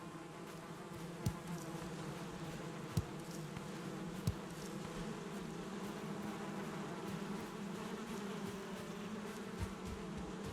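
Bees from a beehive in the Valheim video game give a steady, close drone of buzzing that continues throughout, with a few faint clicks now and then.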